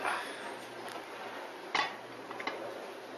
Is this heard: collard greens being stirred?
yes